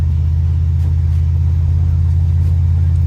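A Ford Mustang's engine rumbles steadily while driving, a loud, deep, even drone with a constant low hum and no revving changes, heard alone without talk.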